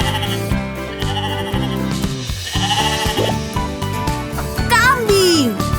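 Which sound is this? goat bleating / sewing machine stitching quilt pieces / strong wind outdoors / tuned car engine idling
goat bleating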